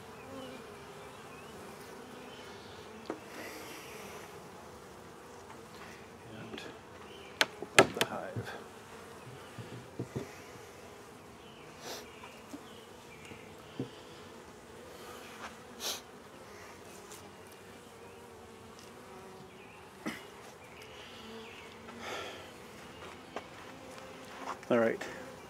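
Honeybees buzzing in and around an opened hive during a small hive beetle check, a steady, faint drone with occasional closer fly-bys, plus soft knocks and handling noises, under a calm outdoor setting with some speech.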